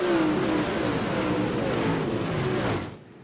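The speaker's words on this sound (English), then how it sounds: "Car's going to come thundering by us here" Race cars thunder past at close range at Weedsport Speedway, their loud engine roar falling in pitch as they sweep by before cutting off sharply at the end.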